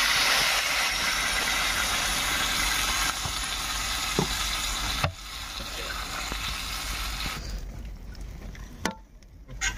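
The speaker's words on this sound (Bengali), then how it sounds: "বৌদি জল ঢালো," Water is poured into a hot pan of sizzling fish curry during outdoor cooking in the Sundarbans, giving a steady loud hiss and frying crackle that drops and softens partway through as the pan calms.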